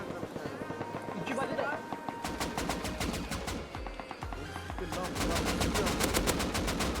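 Rapid M2 machine gun bursts in the online game Rust, sharp evenly spaced shots rattling in a fast stream during a team fight, heard under excited gamer voices talking over each other.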